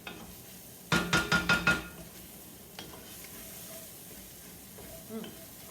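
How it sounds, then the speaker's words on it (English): A spoon scrapes and knocks through red curry sauce in a very hot pot, five quick rhythmic strokes close up, then a quieter low sizzle with a couple of faint clinks. "Okay, now stir that up."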